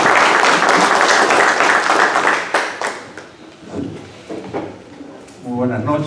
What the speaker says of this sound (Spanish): le pido a todos ustedes un aplauso para nuestros expositores y panelistas en esta noche